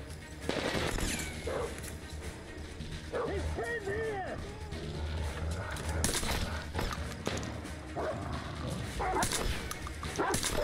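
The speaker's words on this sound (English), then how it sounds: "That is a lot of dogs" Many dogs barking in the post-apocalyptic shooter Metro Exodus, repeated yaps and howls mixed with bursts of gunfire and combat noise, loud and continuous throughout with speech-like game sounds layered in.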